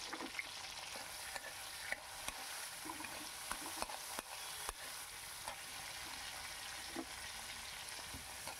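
Chopped tomato being stirred in a pan with dried chillies and radhuni, a faint steady frying hiss broken by light, scattered spatula taps against the pan.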